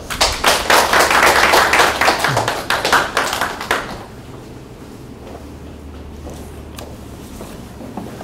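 Audience clapping for a professor's sermon lecture, a burst of dense claps that fades out after a few seconds into quiet room tone.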